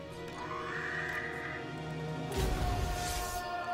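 Horses neigh in the Total War: Warhammer 2 video game, a drawn-out whinny that turns into a loud burst of galloping hooves and clatter from a cavalry charge, with no talking.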